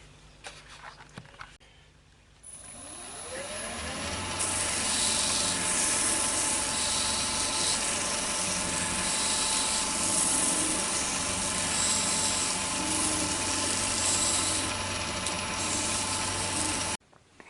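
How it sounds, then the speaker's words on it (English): Olivewood pestle being sanded on a spinning wood lathe, a steady loud whirring rub that starts after a short pause and runs evenly until it cuts off at the end, with no talk. "All I've got to do now is part it off and just sand the top."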